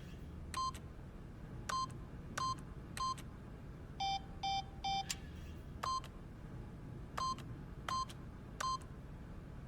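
Keypad beeps from The Stanley Parable video game: a series of crisp electronic tones, single presses spaced apart, then three lower beeps in quick succession, then more single presses, moderately loud over a quiet room-tone hum.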